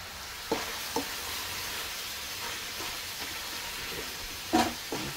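Zucchini, tomato and onion cook with ground beef in a pan, giving a steady soft sizzle broken by a few sharp stirring clinks and scrapes near the start and end.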